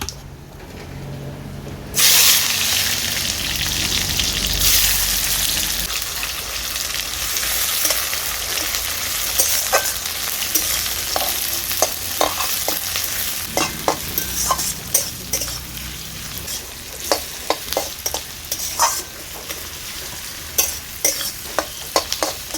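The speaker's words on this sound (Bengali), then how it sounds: "পেঁয়াজ কুচিটা কিছুক্ষণ নেড়ে চেড়ে নিয়েছি" Chopped onion hits hot oil and whole spices for chana masala with a sudden loud burst of sizzling. It then fries in a steady hiss while repeated scraping stirs sound in an uneven rhythm, close by.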